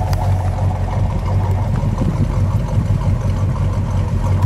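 A stock 1971 Plymouth Road Runner with a 340 V8 idles up close, a loud, steady low burble with an even, lumpy rhythm throughout.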